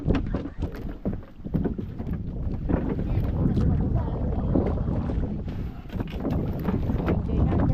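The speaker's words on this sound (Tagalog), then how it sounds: "Tawag tayo ng pundo kasi malakas ang agos." A boat riding a strong river current, with continuous rushing water and wind buffeting the microphone, loud and close throughout, with occasional knocks against the hull.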